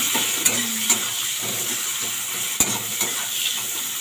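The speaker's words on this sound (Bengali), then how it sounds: "পেঁয়াজ দিয়ে একটু নাড়াচাড়া করবো" Onions are stirred and fried in a pan with a steady, close sizzle, joined by a few sharp scrapes and clinks of a utensil against the metal.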